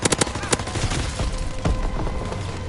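Rifle gunfire in Call of Duty WWII, a burst of several sharp shots up front, then scattered single shots over continuous battle noise with faint talk underneath.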